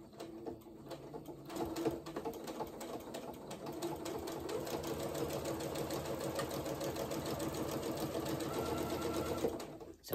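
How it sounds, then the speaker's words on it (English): A sewing machine runs steadily, its rapid needle clatter continuous and close for several seconds before stopping. "come back to your sewing machine. And you're just going to stitch up this edge."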